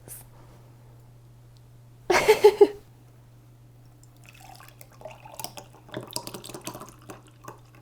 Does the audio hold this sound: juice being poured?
yes